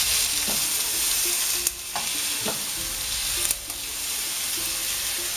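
Beef for a pan-Asian dish sizzles steadily in a hot frying pan, a continuous hiss with occasional soft clinks of tongs or stirring, no talking.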